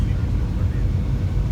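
Steady low-pitched roar of an airplane cabin in flight on a United airliner, a constant engine and airflow drone filling the short stretch without change.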